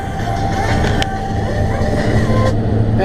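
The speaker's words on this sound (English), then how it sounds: "There's a tow truck on a mission." A tow truck drives past on a hilly road, its engine and tyre noise a steady, close roar lasting about three seconds.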